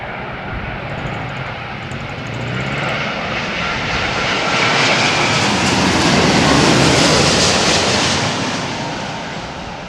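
A Boeing 787 lands in gusty crosswind, its engine roar swelling steadily to a loud peak and then easing off, with a rushing wind-like wash throughout.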